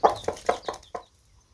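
Chickens clucking on an off-grid homestead, four short, close clucks in a quick even rhythm, then quiet.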